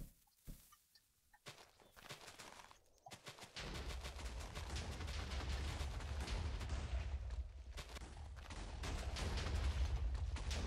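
A city blown up with explosives in modded Minecraft Tekkit: scattered pops at first, then a dense, continuous rumble of overlapping blasts that builds louder and stays heavy to the end.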